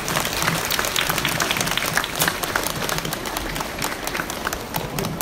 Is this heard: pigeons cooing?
no